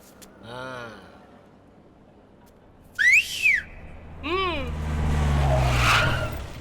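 A man whistles inside a courtroom, giving a few short rising-and-falling whistles separated by pauses, with a rumbling background swelling up toward the end.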